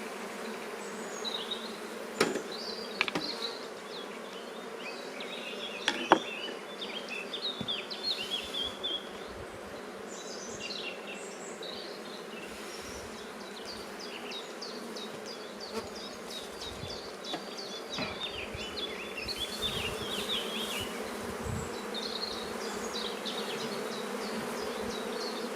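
Honeybees buzzing around an opened hive while brood comb is sampled, a faint continuous hum of many insects with individual bees passing close at moments, and occasional small clicks and handling noises.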